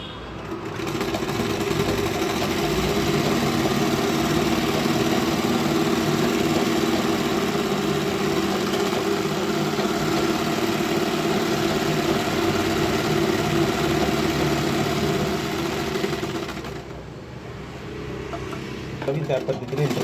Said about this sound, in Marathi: इंटरलॉक मारून घ्यायचं आहे.